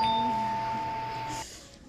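A single electronic doorbell tone rings clearly and sustains, then cuts off abruptly, leaving a quiet room.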